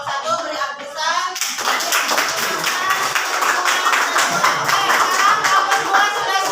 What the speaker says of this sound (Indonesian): Terima kasih kelompok 1 beri aplaus.